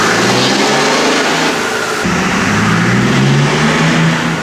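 A turbocharged car engine revs hard on a dyno, a loud continuous roar with rising pitch sweeps and a brief dip midway before climbing again.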